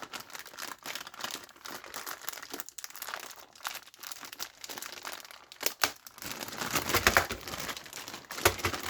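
Plastic crinkles and rustles up close in irregular bursts, growing louder and busier toward the end.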